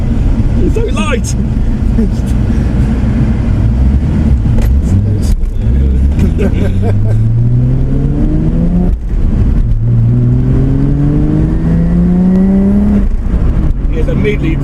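A Toyota Supra MK4 1JZ engine revs up repeatedly, rising in pitch through the gears, loud and close, with a higher tone and loud exhaust, with people talking over it at times.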